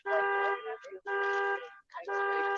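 A car alarm blares in repeated long tonal bursts with brief gaps between them, loud and close, and no voices are heard over it.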